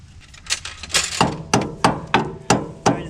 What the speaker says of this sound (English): tap it on and try to tap down on it and then up on it